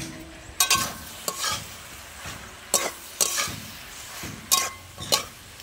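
A utensil scrapes and knocks against a pan as mung dal with bottle gourd is stirred while frying, giving sharp repeated strokes over a low sizzle, heard up close with no talking.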